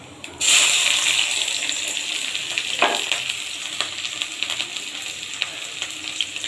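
Chopped onion, chopped garlic and slit green chilies dropped into hot oil burst into a loud sizzle that settles into a steady close frying hiss with small pops and stirring clicks.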